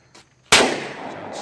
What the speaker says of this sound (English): John's shooting some 357 Magnum round